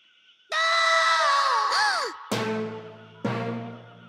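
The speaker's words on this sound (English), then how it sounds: "Start yelling help!" Cartoon character from The Land Before Time screaming for help, a long, loud wavering cry followed by two sharp shrieks that trail off.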